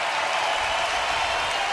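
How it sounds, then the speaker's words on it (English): A hockey arena crowd at a Montreal Canadiens–Ottawa Senators preseason game stands and applauds both teams, a loud, dense, continuous wash of clapping and cheering. "the crowd comes alive on their feet to salute both sides"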